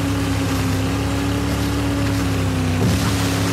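A motorboat engine droning steadily in a multiplayer war video game, with continuous wind and water wash. The engine is loud and close throughout, with a brief bump near the end.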